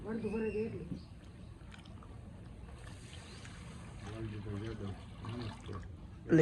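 Water pours steadily into a pot for a millet flour recipe, with a continuous splashing rush, while a person talks over it.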